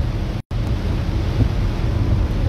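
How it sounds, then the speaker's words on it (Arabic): Heavy rain pours down on the city of Tangier in a loud, dense, constant roar mixed with wind buffeting the microphone, broken by one brief dropout. "تساقطات مطرية هامة وغزيرة تصب على مدينة طنجة في هذه اللحظات"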